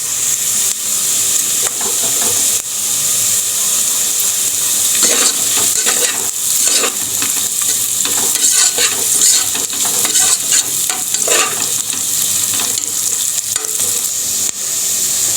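Spices with kasuri methi frying and being stirred in a pan, a steady bright sizzle with repeated scraping strokes of the spoon, close and alone without talk.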